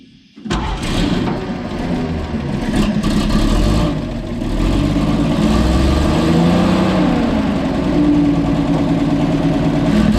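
A Blitz truck engine cranks and catches after a brief quiet start, then settles into a loud, steady, rumbling idle with slight rises in revs for the rest of the clip.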